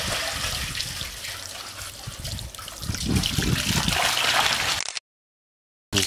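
Clean water pours from a well in a close, steady trickling gush that swells slightly midway, runs about five seconds without any voices, then cuts abruptly to silence.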